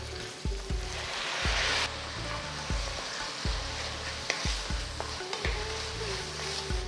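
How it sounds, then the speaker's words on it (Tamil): Onions and tomatoes saute in a pan for Kumbakonam kadappa, a continuous sizzle punctuated by sharp spatula clanks and scraping strokes against the metal every second or so. "வெங்காயம் ஒரு 2-3 நிமிஷம் நல்லா வதங்கின பிறகு அடுத்து நம்ம தக்காளி சேர்க்க போகிறோம்."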